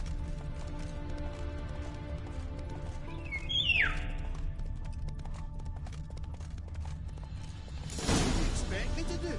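A horse in a PS4 video game, limping and then collapsing, gives a whinny and clopping hoof sounds amid continuous game ambience, followed later by a brief louder burst of noise.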